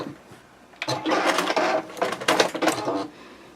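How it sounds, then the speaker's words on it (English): A sewing machine stitches a seam on an American Girl doll dress in two close, whirring bursts of rapid stitching separated by a short pause, after a quiet lead-in. "Then when you come to the end, you'll take a few stitches backwards to lock in your seam."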